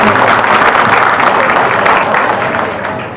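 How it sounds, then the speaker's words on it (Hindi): Loud, dense applause from a political party rally audience, honoring the performing artists, sustained throughout and tapering slightly at the end. "तालियां बजाएं"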